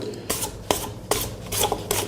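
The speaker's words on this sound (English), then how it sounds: "I just want to give it a wee quick scrape down actually." Spatula scraping down rich fruit cake mixture with almonds in a mixer bowl, five soft, quick rasping strokes at an even rhythm, close and fairly quiet.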